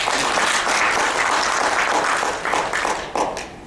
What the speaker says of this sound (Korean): 동의하시면 큰 박수 한번 주시면 좋겠습니다.